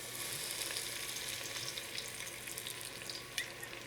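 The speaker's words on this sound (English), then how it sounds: "So I'm going to put my onions in my pot, and about 1/2 cup of olive oil" Onions frying in olive oil in a pot, a faint, even hiss of sizzling with a few soft clicks and taps near the end.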